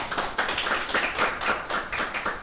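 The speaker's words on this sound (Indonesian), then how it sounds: "boleh kasih tepuk tangan buat Pak Steven?" A congregation at a church service applauds with steady, even clapping. It sounds like a roomful of hands at moderate loudness, and the clapping keeps going without a break.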